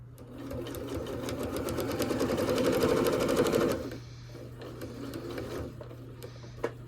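Sewing machine stitching a quilt-as-you-go table runner, a fast steady mechanical whir with rapid needle clatter that runs for several seconds, then stops, leaving faint handling clicks and a low hum.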